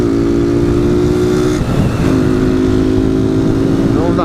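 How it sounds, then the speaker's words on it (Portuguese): Honda Titan 150 motorcycle fitted with a G-Moto exhaust idles close by with a loud, steady rumble that dips briefly midway before settling back into the same even drone. "estamos aqui já com o nosso escapamentinho G-Moto instalado na motoca. Como vocês podem estar escutando o berrador já."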